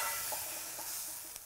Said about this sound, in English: I'm getting a bit of a char on the asparagus now